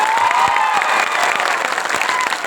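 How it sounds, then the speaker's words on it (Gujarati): A crowd at an open-air political rally at a roadside junction claps loudly and continuously, a dense wash of applause with some cheering voices mixed in and a distant whistle-like tone. "જે ડેડિયાપાડાની જનતાએ મને ચૂંટ્યો છે એના માટે જોરદાર તાળીઓ પાડી લો."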